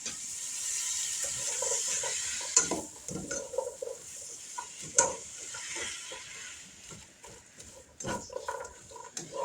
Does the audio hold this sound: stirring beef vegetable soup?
yes